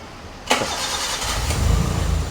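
A Maruti Gypsy engine cranks briefly and catches, settling into a low, rumbling idle that grows slightly louder.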